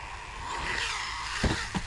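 A Hobbytech BXR S1 RC buggy runs on carpet. Its electric motor whines steadily and rises as it corners, with brief scuffs and thuds from the tires near the end.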